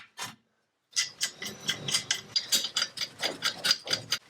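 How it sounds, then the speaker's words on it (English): A hand ratchet tightens down an ATV axle nut, a rapid string of loud, close metallic clicks following one brief click and a pause. "Tighten down our axle nut."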